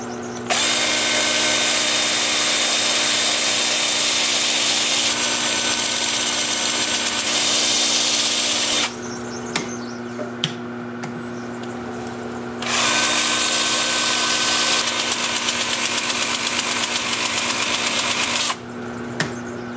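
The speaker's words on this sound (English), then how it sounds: "stand by for sanding" An electric power sander works a live-edge alder wood bowl at 80 grit, a loud continuous whine that cuts out twice for a few seconds and then restarts, close to the microphone with no talk.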